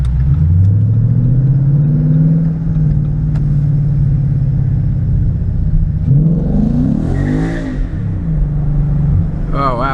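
Tuned Ford Mustang accelerating hard, the engine note climbing in a loud rising roar before a burst of revving and tire-spinning noise near the end, with no talk over it.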